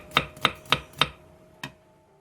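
Knife slicing cucumber, chili, green onion and onion on a cutting board: four quick evenly spaced crisp chops, a pause, then one final chop, close and clear with no talk.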